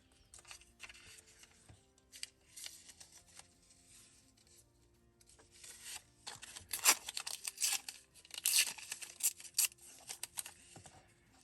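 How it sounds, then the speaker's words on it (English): Green masking paper being handled and torn at a crafting table, a series of close crinkles, rips and scrapes, sparse at first and then busier and louder in later bursts, with no talking. "This is some of the green masking paper."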